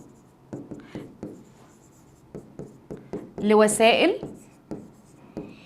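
Pen scratching on paper, a series of short strokes in quick irregular bursts, close and distinct, while someone speaks over part of the writing.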